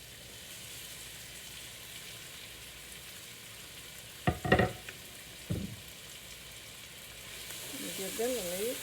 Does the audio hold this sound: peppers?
yes